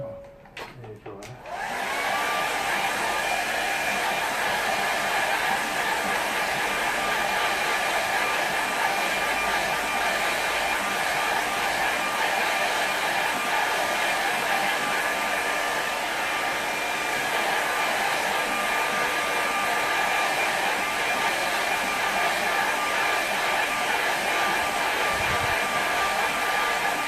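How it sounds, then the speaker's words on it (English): A hair dryer blows steadily and loudly up close, drying paint on a painting of a boat in a coastal scene, running alone after a brief start. "Use my hair dryer."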